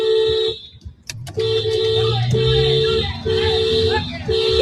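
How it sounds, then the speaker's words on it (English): A car horn honks in long repeated blasts, several separate toots in a row, loud and close, with some traffic noise between them. "If you hear my honking, they are close to you."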